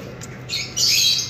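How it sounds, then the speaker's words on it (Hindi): Pet parrots kept in an outdoor aviary setup give short, sharp squawks, a brief high call followed by a louder, harsher squawk, close and clear with no talk. "लाल भाई इतना अपने तोतों का ख्याल रखते हैं"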